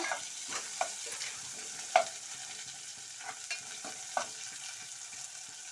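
Onions fry softly in a pan for vegetable upma, giving a low, steady sizzle broken by light, intermittent stirring clicks, heard close and without speech.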